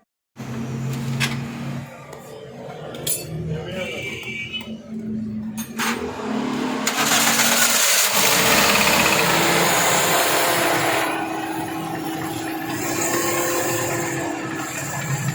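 A Toyota Corolla engine with one injector's IC not working runs close by in a workshop, a steady mechanical drone that rises into a louder rev midway, then settles back to idle.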